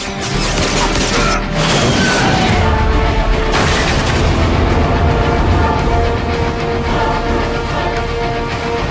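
Heavy weapons fire and explosions hammer the tow cables in the Transformers: Fall of Cybertron video game, with loud, continuous booms, crashes and rattling blasts layered densely throughout and no talk.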